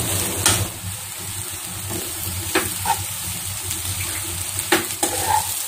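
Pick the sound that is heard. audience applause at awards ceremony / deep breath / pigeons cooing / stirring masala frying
stirring masala frying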